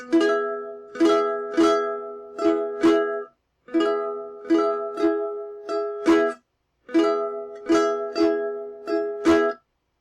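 Ukulele chords strummed in a bright, repeating rhythmic pattern, with short pauses between phrases, played close and clear with no voices.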